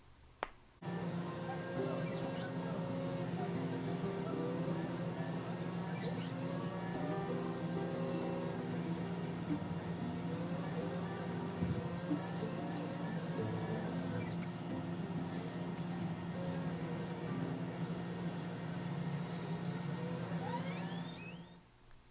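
A young boy imitates a garbage truck with his voice, a sustained droning engine-like hum held steadily for about twenty seconds, close and fairly loud.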